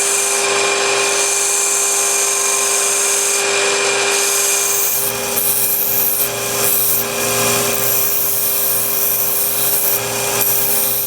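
Filing and sanding a handmade metal wax carving tool for jewelry work on a belt sander, a steady loud abrasive rasp with a constant machine whine running throughout, rising slightly in grit partway through.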